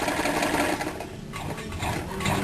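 A sewing machine runs steadily on a zigzag stitch, attaching elastic to swimwear fabric, a close, continuous mechanical whir with a brief dip in speed midway.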